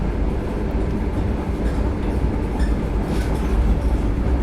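Vande Bharat express train running on rails between Somnath and Ahmedabad, heard from on board as a steady, loud rolling rumble with faint rhythmic wheel clatter throughout and no talk.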